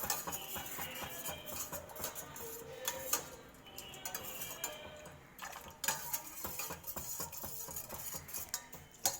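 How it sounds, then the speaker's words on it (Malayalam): A utensil stirs milk tea with cardamom in a pot, giving faint, irregular clinks and soft scraping taps against the metal, quiet and close with no talking. "നമുക്ക് നല്ലോണം ഇളക്കി കൊടുക്കാം കേട്ടോ."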